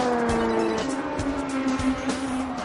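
Formula Malaysia race car spinning a triple donut, tyres squealing in sustained high whines over a loud continuous engine roar, close and without talk.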